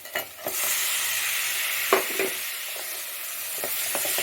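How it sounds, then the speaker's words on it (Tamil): Chicken sizzles and fries in oil with masala as it is stirred in a pan, a steady close hiss broken by a few scraping stirs. "போட்டு நல்லா பரட்டி விடுங்க நல்லா இந்த சிக்கனில் ஃபுல்லாக அந்த மசாலா ஏறணும்"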